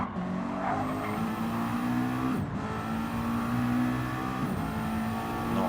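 A McLaren 650S GT race car's engine howls at full throttle down a straight during a live circuit race, loud and steady with a brief dip between gear changes.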